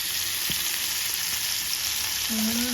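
Oil poured over fish frying in a pan, a loud, continuous close-up sizzle with a brief clink early on and a short ringing tone near the end, no talking.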